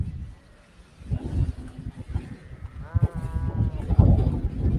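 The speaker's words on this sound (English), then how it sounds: "Watch out for the sheep." Sheep bleat on a high-altitude mountain grazing area, several wavering calls rising over a rumbling, noisy background with a murmur of voices nearby.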